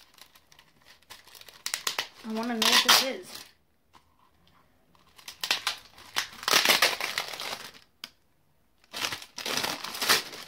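Tissue paper crinkling and rustling in bursts while a summer gift box is unwrapped, close and loud, with someone talking between the crinkles.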